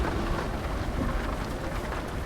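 Steady rain drumming on a truck in Euro Truck Simulator 2, a dense even hiss with faint low rumble throughout, continuous and close with no talk.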